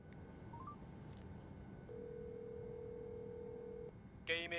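A telephone number is dialed: a few faint short tones, then a long steady tone for about two seconds over low background hiss, followed by a sharp electronic burst at the end.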